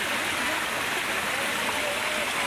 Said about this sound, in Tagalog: Ito yung tubig dito.